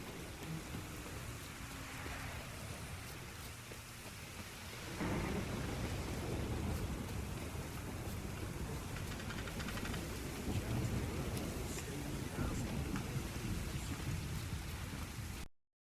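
Heavy rain and rumbling thunder in the video game The Witcher 3: Wild Hunt, a dense continuous downpour that swells louder a few seconds in and keeps a steady roar throughout, with no voices.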